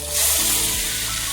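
Marinated duck meat hits a hot pan of browned onions and bursts into a loud, close sizzle that swells quickly and then holds as a steady hiss.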